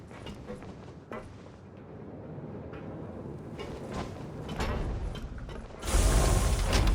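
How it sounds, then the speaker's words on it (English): Elevator machinery in a video game runs with mechanical ratcheting and grinding, clunks and whirs building over several seconds before a sudden loud surge of noise at the end, with no talk. "I need to call the elevator."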